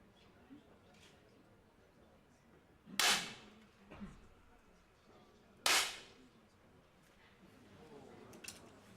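Two sharp, crisp air pistol shots crack a few seconds apart in a women's 10 m air pistol competition at the Munich World Cup, over a quiet room murmur with faint small clicks.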